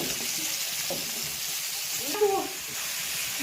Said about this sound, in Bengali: সবজিটা আমি 2-3 মিনিট কষিয়ে নিয়েছি।